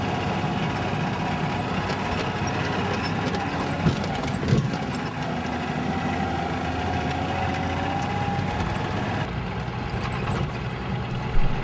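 A lorry engine droning steadily while driving on a highway in Mali, heard as an even, dense rumble with road noise from inside the vehicle and a few faint knocks and rattles.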